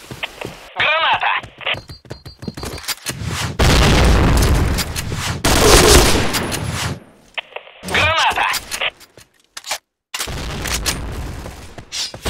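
Grenade blasts and gunfire burst loudly from a Point Blank online shooter match in a bomb-defusal mode, with heavy booms, rattling shots and abrupt silences between, mixed with in-game voice announcements.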